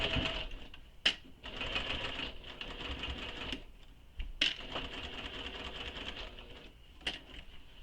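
A sewing machine backstitches a bag seam in short, faint bursts of rapid stitching, separated by sharp clicks and pauses, with no talk.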